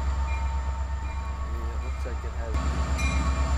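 Freight train Q601 rolls steadily through a spring switch at a siding's west end, a loud continuous low rumble of wheels and cars with some faint metallic squeal over it.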